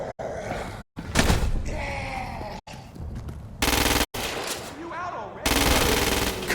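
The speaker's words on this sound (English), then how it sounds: "is a standard-issue agency assault rifle. Use it to kill the freak, without assisted targeting." Rapid automatic bursts from the standard-issue agency assault rifle in the Crackdown 2 video game, loud and close. Several sustained volleys are cut by brief silences, with game voices and groans mixed in.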